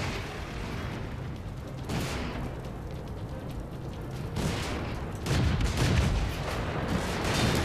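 A World of Tanks tank gun fires heavy booming shots, with two or three broad, deep blasts a few seconds apart over a rumbling engine backdrop.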